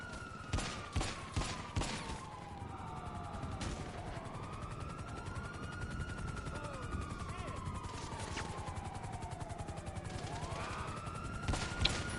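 Pistol gunfire in Grand Theft Auto 5 Online: a burst of sharp shots at the start and a few more near the end, heard over steady game noise with wailing police sirens.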